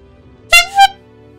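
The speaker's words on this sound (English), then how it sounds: "That's the sound of a Reaper engaging." Reaper engaging in the Mass Effect 3 demo, two loud blaring horn-like blasts in quick succession, brassy and overloaded, over a low quiet hum.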